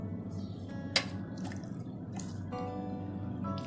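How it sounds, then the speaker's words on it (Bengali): Water is tipped off a bowl of sweet yogurt (mishti doi), giving a few quiet drips and small splashes with light clinks against a soft room hush. "একটু পানি দেখা যাইতেছে, আমি পানিটা ফেলে তারপর মিক্সড করব।"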